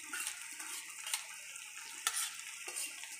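Noodles with egg and onion hiss and sizzle in a hot pan while being stirred, a bright continuous frying sound with occasional scrapes and knocks of a utensil.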